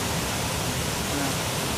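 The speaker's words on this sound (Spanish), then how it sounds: "¿Qué le parece esta cascada? Cascada de Ingachaca en Oña." The Ingachaca waterfall in Oña, Azuay, Ecuador roars as a dense, steady broadband rush, loud and close, with no breaks and no other sounds standing out.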